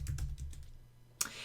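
A few quick keystrokes tap on a computer keyboard nearby, then stop, followed by a single sharper key click a moment later.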